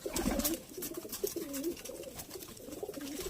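Pigeons cooing close by in a loft, a run of soft low throaty coos repeating one after another, no talk.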